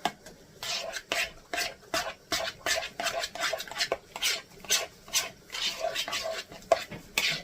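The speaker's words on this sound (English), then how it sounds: "We're going to give that a whisk. Get that egg all broke up." Egg being whisked in a bowl during Christmas dinner preparation, fast rhythmic scraping strokes close up, steady and continuous with brief pauses.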